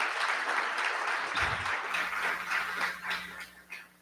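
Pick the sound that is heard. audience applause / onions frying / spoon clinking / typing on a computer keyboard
audience applause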